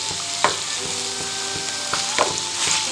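Chicken pieces and vegetables sautéing in a hot pan for a sweet restaurant-style chicken dish, with a loud continuous sizzle and periodic scraping stir knocks, close and alone.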